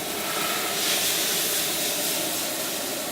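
Wine poured into a hot pan fizzes and hisses loudly, a steady, close, broadband sizzle of steam that holds even for several seconds with a slight swell near the start.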